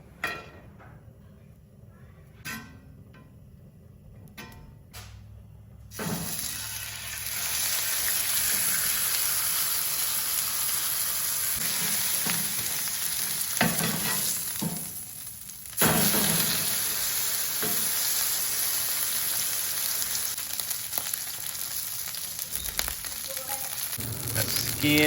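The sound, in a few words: frying salmon in beef tallow, sizzling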